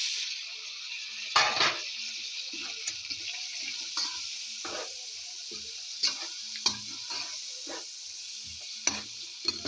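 Tomatoes and green chili fry in a pan with chili powder, turmeric and salt for a Pakistani-style beef liver curry, a continuous bright sizzle with intermittent spatula scrapes and clinks, close up and alone.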